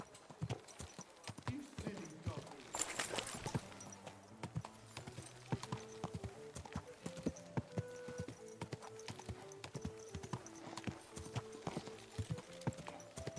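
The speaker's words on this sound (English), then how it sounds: "Easy, good horse." Horse hooves clip-clop steadily in the video game Kingdom Come: Deliverance 2, a close, even rhythmic trot with a low musical drone and faint game ambience underneath.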